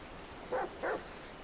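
Chop, a dog in GTA V, gives two short barks in quick succession, moderately loud and slightly distant against a low background hum.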